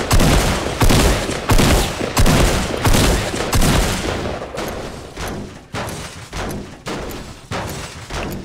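Video game gunfire, a rapid series of loud, sharp shots in an even rhythm, roughly a dozen bursts that soften slightly in the second half, with no talk.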